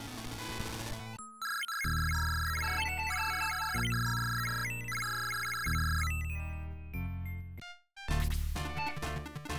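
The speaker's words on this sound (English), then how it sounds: "sorry about the phone." A landline telephone plays a loud electronic melodic ringtone, near and continuous for about ten seconds, with repeating tonal phrases and a brief break before it starts again.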